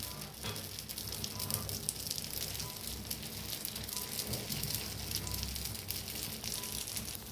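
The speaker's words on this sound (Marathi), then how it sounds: "आप्पे पॅन बी गरम झालाय बघा, त्याच्यात होतंय थोडं थोडं तेल। तर आता आप्पे सोडायचे" Appe batter sizzles and crackles steadily in a hot, lightly oiled appe pan, a dense frying hiss that runs close and even throughout with no talking.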